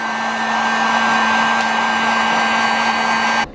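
A heat gun blows hot air onto wire connectors while rear bumper pod lights are wired on a custom Jeep Gladiator, a loud steady whirring roar with a constant hum that cuts off abruptly near the end.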